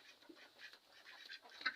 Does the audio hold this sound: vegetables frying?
no